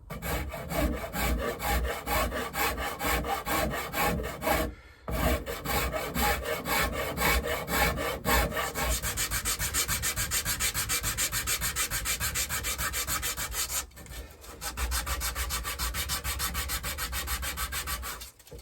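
A Shinto rasp carves into the wooden body of a Fender Jaguar style guitar build, loud continuous rhythmic rasping strokes up close, pausing briefly twice before resuming.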